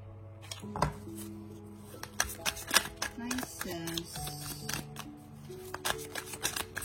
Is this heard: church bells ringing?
no